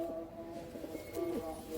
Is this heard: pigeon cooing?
yes